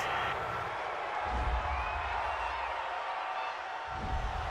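Crowd at an NFL football stadium for an Eagles vs. Packers game, reacting to a roughing-the-passer penalty with a broad, steady roar of voices that stays loud and continuous throughout.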